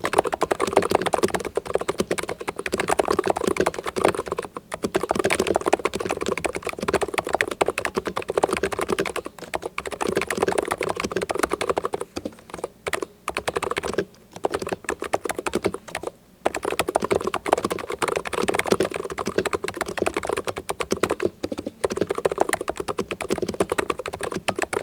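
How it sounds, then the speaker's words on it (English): Steady typing on an ABKO Hacker K945P mechanical keyboard with lubricated switches: a dense, continuous clatter of keystrokes, close and even, with a few brief pauses and no talk. "Here's a sound test of the keyboard."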